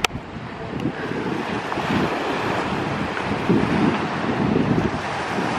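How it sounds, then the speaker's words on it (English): Surf washing onto a calm Florida beach at sunrise, a steady broadband wash with gentle swells rising and falling, mixed with wind buffeting the microphone, no voices. "The water might be loud."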